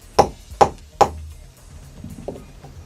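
Three sharp metallic hammer strikes on a punch marking a 2001 Ford Focus number plate light part, close and loud, followed by a couple of softer knocks.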